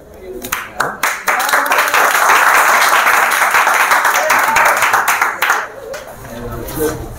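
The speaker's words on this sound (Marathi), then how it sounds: "असं टाळ्या वाजवतात." An audience at a student development program breaks into loud, dense applause that swells for several seconds and then fades out into scattered claps, with a voice talking at the edges.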